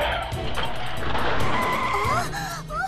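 A car skids off the road toward a ditch, with loud close tire squealing and a rising whine over a rough engine and road roar, the squeal swooping in several sharp arcs near the end.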